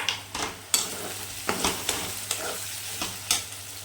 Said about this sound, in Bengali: ও তেল পুরো ছেড়ে দিয়েছে, তার মানে মশলা ভাজা ভাজা হয়ে গেছে।